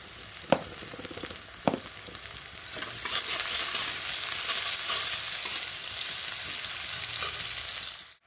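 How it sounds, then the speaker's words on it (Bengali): Mashed eggplant, potato and tomato, boiled in a pressure cooker, are fried and stirred in a pan: a few spoon knocks first, then a steady, loud sizzle with scraping stirs. "তো এক মিনিট আমি ভাজি করেছি"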